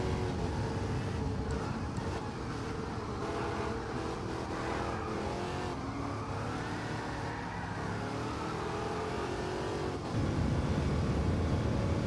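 A video-game car with fully customizable gearing drives through a race, its engine droning and revving up and down continuously for several seconds, with a brief shift in tone near the end.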